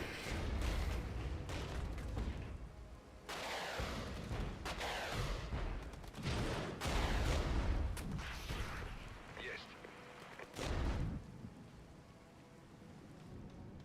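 In the war strategy game Regiments, rumbling gunfire and explosions from RPGs and machine guns roll on continuously, with heavy low bursts rising and falling amid a dense battle din.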